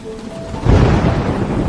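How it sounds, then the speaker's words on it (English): Heavy rain roars in a thunderstorm, a low rumbling wash that swells sharply partway through and stays loud and dense to the end, with no voices. "Heavy rain may cause dangerous flooding today."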